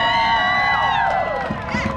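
Excited crowd at an opening day ceremony at SeaWorld San Diego, loud whoops and shouts rising over a swell of cheering and scattered clapping, with high sustained yells that slowly fade as the noise thins.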